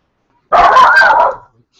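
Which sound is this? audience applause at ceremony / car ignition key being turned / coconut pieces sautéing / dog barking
dog barking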